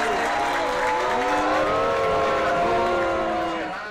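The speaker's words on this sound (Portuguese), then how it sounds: "A vaia por parte do público para Dilma aconteceu logo que a presidente teve seu nome anunciado." A large public crowd jeers and boos Brazil's president Dilma Rousseff as her name is announced at an event in Minas Gerais, a sustained, swelling roar of voices that fades toward the end.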